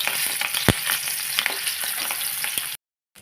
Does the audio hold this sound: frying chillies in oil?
yes